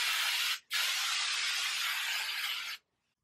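Two close hairspray sprays hiss out while styling hair extensions, a brief burst followed by a longer steady spray about two seconds long, then silence.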